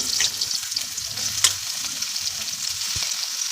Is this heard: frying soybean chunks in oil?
yes